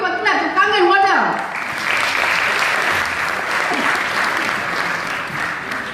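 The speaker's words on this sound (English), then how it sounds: "Give a clap to Kangen water." Audience at a Kangen water event in a Dubai hotel breaks into steady applause after a short stretch of speech, with a full, even clapping wash that holds to the end.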